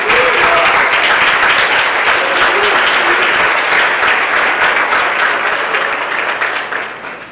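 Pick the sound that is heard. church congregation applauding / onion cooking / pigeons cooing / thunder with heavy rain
church congregation applauding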